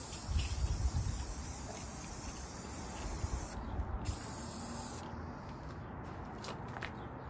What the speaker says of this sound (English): I'm using a scrap piece of wood to try to get more overspray than instead of actually direct spray